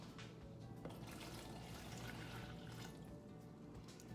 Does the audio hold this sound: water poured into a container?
yes